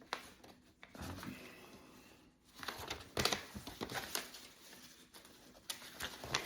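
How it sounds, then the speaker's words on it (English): A sheet of paper is folded in half, giving close, quiet crinkling and rustling bursts with short pauses between them. "you fold it in half"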